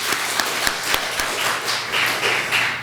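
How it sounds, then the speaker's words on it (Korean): A church congregation claps together in a dense, roomy burst of applause, many hands patting at once with a few louder individual claps standing out over the steady wash of sound. "박수 한번 치십시다"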